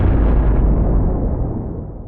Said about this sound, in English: it's more this far-away explosion